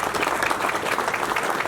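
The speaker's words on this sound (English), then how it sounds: "So a round of applause, please, for that as well." Applause from a crowd gathered at a hotel ribbon cutting ceremony, steady dense clapping that fills the short moment at close range without any voices rising above it.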